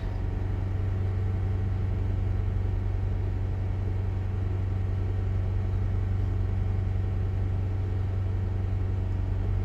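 A 2010 Honda Civic engine held at about 3000 RPM during a catalytic converter cleaning with Seafoam, a steady close low hum and rumble with no change in pitch throughout.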